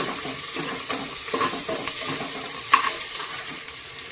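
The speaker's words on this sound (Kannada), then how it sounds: "ನಾನೀಗ ಇಲ್ಲಿ ಸಣ್ಣದಾಗಿ ಕಟ್ ಮಾಡಿಟ್ಟಿರೋ ಈರುಳ್ಳಿ ಹಾಕ್ತಾ ಇದ್ದೀನಿ" Finely chopped onion tossed into a hot pan for tomato bath: a continuous moderate sizzle with irregular stirring scrapes and one sharp clink near the end, heard close with no talking.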